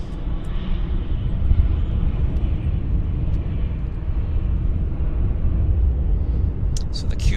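An Air Canada Jazz Q400 turboprop at Vancouver airport, a steady low engine rumble holding at moderate distance, with quiet talk in the background.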